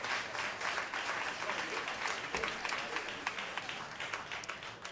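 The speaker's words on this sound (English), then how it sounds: "Let's give him a round of applause once he comes in." An audience at a live jazz quintet concert in a St. Louis club claps steadily and densely for the whole stretch, a close, continuous wash of applause with no talk over it.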